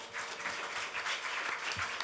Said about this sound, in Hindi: मैं आप सभी से एक बार जोरदार तालियों की अपेक्षा रखती हूँ।